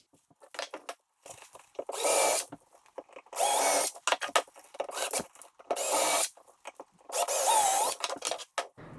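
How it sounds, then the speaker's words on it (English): A power drill bores holes through wooden brush heads in five separate loud bursts of whining, grinding drilling, with quieter scraping and handling noises between them. "Next, I drilled all of the holes in the brush heads ready for them to be fixed."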